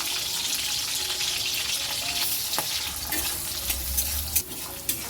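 Chopped onions fry in a wok with nigella seeds, green chilies and turmeric. The oil gives a steady close sizzle, broken by a few sharp clinks and scrapes of stirring.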